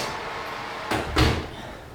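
An oven door opens to remove a heated car headlight from a VF Commodore, giving two quick muffled thumps and a rattle over a low, steady background hum.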